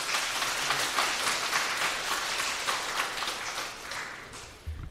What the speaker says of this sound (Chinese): 我们就用热情的掌声欢迎他